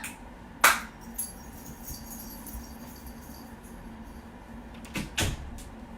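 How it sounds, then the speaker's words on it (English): A door being shut on cats indoors, two sharp knocks with a thud and clatter about five seconds apart, over quiet room tone. "I'm going to probably close the door on them"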